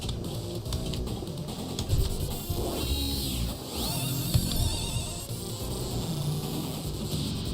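A supercharger car revs on The Getaway pinball table in Pinball FX, a steady engine whine that rises and dips, layered over continuous machine noise and music.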